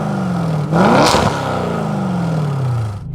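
A Mercedes-AMG engine with a Frequency Intelligent exhaust revs sharply, rising in pitch with a clattering burst, then slowly falling in a long, smooth decline as the revs drop, close and loud without talk.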